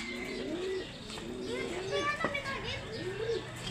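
Soft cooing of pigeons repeats several times, with other bird chirps and voices in the background.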